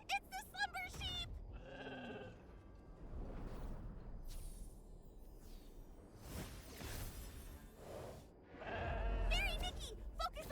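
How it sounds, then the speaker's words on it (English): Slumber sheep bleating in the video game Infinity Nikki, a few repeated bleats rising over game music and a speaking voice that runs through most of the scene. "it's the slumber sheep!"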